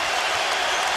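Basketball crowd at Rupp Arena roaring and cheering, a dense loud continuous wash of noise with no gaps.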